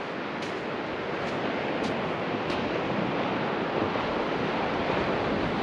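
Steady roar of surf breaking on a long white-sand beach on Kangaroo Island, with constant wash and wind noise and no voices.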